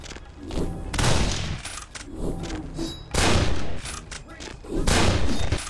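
Shotgun fire in the video game Vampire: The Masquerade – Bloodlines, several heavy booming blasts repeating every second or so amid loud, dense combat noise.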